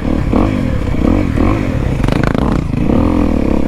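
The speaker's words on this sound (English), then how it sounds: "Where'd that little two-stroke go?" A small two-stroke motorcycle engine revs on a creek trail, its buzzing pitch rising and falling in repeated bursts, loud and close, with a voice briefly mixed in.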